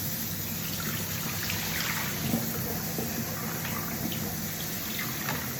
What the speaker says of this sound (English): put water in it and dump it through the strainer to make sure